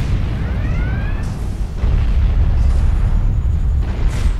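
Hand phaser firing in Star Trek Online, a few sharp energy blasts with rising tonal sweeps, punchy and close over a rumbling game backdrop.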